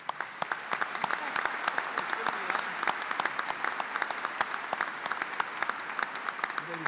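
Applause from the audience at a 2023 high school commencement ceremony, continuous crowd clapping with distinct individual claps standing out, heard at a moderate distance and fairly quiet.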